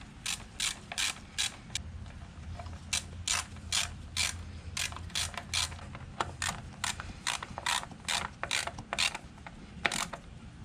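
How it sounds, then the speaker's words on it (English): A 3/8 ratchet fitted with a 10mm socket clicks in quick repeated bursts while tightening ignition coil bolts on a 2016 Scion iM, close and crisp, with short pauses between strokes and no talking. "we'll take our 3/8 ratchet with the 10mm socket and just tighten these down, snug them down good."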